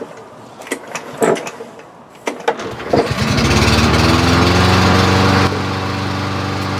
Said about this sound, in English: Just stick your bare, unprotected hand into a running lawnmower.